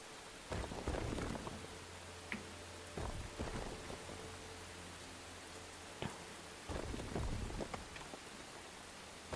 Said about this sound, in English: This game has some awesome rainstorms.